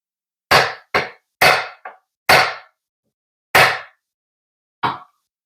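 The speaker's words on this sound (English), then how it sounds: "Give her a couple whacks too, see if we can get a little bit of a seat in there." A hammer strikes the top cover of an NV4500 transmission in seven sharp, separate whacks, the first few in quick succession and the last ones more widely spaced, each ringing briefly and loud and close.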